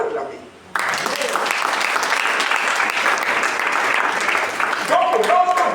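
A church congregation breaks into loud, sustained applause that starts suddenly and fills the room for about five seconds. Voices and cheers mix with the clapping.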